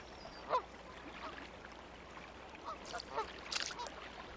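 A female Canada goose calls near a raccoon in a wild setting, giving a few brief honks spread across a few seconds over a steady background hiss, moderately close and fairly loud.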